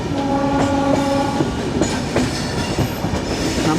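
The 12431 Trivandrum–Hazrat Nizamuddin Rajdhani Express runs through Mathura Junction, its wheels clattering loudly and continuously while a horn sounds; the train is close and there is no talking.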